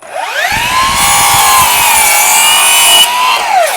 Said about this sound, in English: you gotta cut your miter back. In this case, you're just cutting the end off.